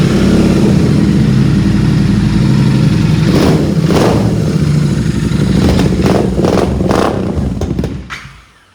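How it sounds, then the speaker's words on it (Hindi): A brand-new black-on-black Royal Enfield Continental GT650 with alloy wheels and 2300 km on it runs its engine steadily and loudly up close, a deep continuous throb with a few sharper revs before it cuts off near the end. "ये है कुछ आवाज़ कॉन्टिनेंटल GT650 की"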